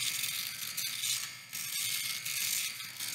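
A rechargeable portable mini electric shaver runs through three days of stubble with a steady, close, high-pitched buzz that dips slightly as it moves across the skin.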